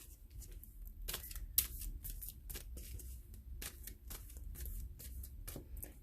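Cards shuffled and drawn for a reading, a soft papery riffle and flicking that repeats in quick bursts, close and fairly quiet with no talking.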